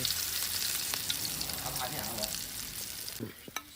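Thai curry paste frying in a hot pan, a bright sizzling hiss with occasional clicks that fades near the end.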